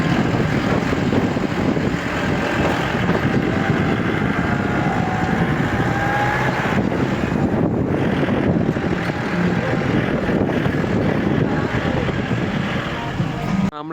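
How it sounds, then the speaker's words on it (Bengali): Strong, cold wind at a mountain viewpoint in Yumthang Valley, Sikkim, buffets the microphone as a loud, continuous low roar with gusty surges, unbroken from start to finish. "প্রচণ্ড হাওয়া দিচ্ছে আর সেই রকম ঠান্ডা"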